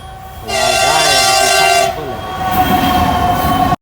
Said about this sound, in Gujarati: દસ પંદર કલાક પછી ટ્રેન આવી ગઈ છે